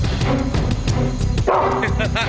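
A dog barks in a run of repeated yips and woofs at close range, with people talking underneath at about the same level.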